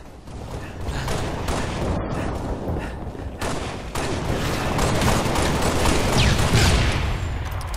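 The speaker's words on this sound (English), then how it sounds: "Oh, nice nade launch." Grenade launcher fire in a shooter video game, buried in a dense, continuous wash of explosions and gunfire that builds slightly louder toward the end; no clear separate blasts stand out, and there is little talk.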